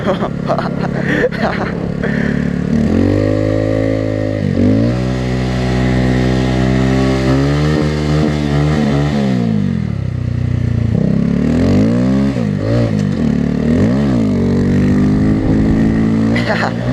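A motorcycle engine revs hard and repeatedly while the rider pulls power wheelies on snow, pitch sweeping up and down in loud, close bursts.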